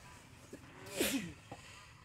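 A single short sneeze bursts out near the middle, fairly close and brief, with quiet background otherwise.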